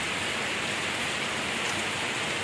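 Heavy rain pours steadily and close by in a dense, even hiss, with no voices over it, recorded while arriving at an office during a downpour.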